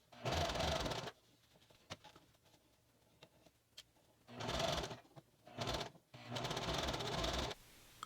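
A sewing machine stitches a pair of kid's pants in short bursts, three fast whirring runs of needle clatter separated by quiet pauses with small clicks, close and fairly loud, no talk.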